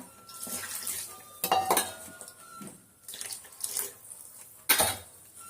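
Close clinks of a metal mixer-grinder jar and utensils mix with splashes and trickling water in short bursts, like rinsing at a sink, while cooking mutton curry.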